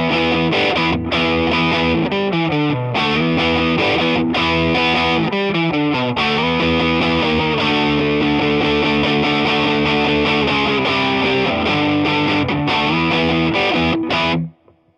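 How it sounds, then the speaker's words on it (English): Westcreek Racer offset SG-style electric guitar played through its neck pickup with overdrive, a loud sustained run of chords and melodic lines with thick harmonic tone that cuts off abruptly at the end; no talking. "Let's go to the neck pickup."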